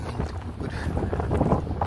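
Strong wind buffets the microphone in a steady, rough roar with gusty low rumbling throughout, no voices heard.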